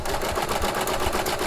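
A Baby Lock serger stitches wired ribbon, its motor running in a steady, close whirring hum with a fast mechanical chatter throughout.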